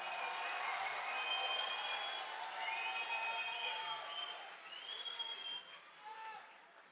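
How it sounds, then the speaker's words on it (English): Crowd applause and cheering for children at the Boys Chidon main event, a steady wash of clapping with scattered whistles that swells near the start, then gradually thins and fades toward the end. "they deserve a real loud round of applause"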